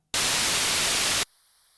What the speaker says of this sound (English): we're doing it with white noise